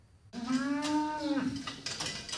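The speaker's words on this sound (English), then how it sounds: "The farm has around 300 dairy cattle." A single dairy cow on a farm of about 300 cattle gives one clear, drawn-out moo lasting about a second, close and alone, followed by quiet background.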